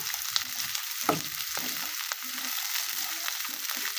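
Spring onions, long beans and carrots frying for Schezwan fried rice give a continuous loud sizzle, broken by repeated scraping stirs of a spatula in the pan, close up.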